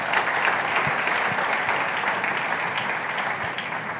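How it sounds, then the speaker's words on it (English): An audience at a talk on Nigeria's strategic role in Africa applauds in a thick, sustained burst of many hands, steady and fairly loud for several seconds with no voices on top. "Please, a round of applause for them right there."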